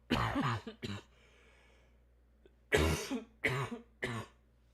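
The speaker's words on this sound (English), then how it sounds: "the more I talk, the more my throat gets all fucked up and I start coughing" A man coughs loudly and close, a harsh burst of several coughs, a pause, then three more separate rough coughs.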